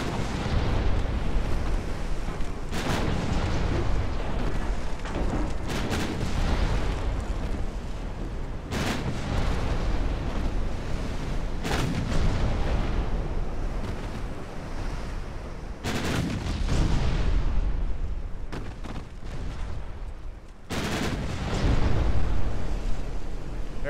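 Heavy cruiser's forward guns firing in Ultimate Admiral Dreadnoughts, a naval battle game: several loud booming salvos spaced a few seconds apart over a constant rumbling sea-and-battle roar.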